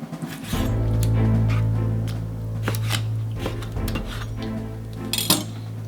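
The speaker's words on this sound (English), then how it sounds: "cut your chicken breast in small pieces" A knife cuts raw chicken breast into small pieces on a kitchen surface, with irregular clicks and scrapes of the blade over a steady low hum, close up and without speech.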